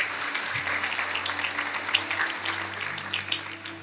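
A church congregation applauding during a sermon, dense steady clapping from a crowd with a low sustained organ or keyboard tone underneath, fading slightly toward the end.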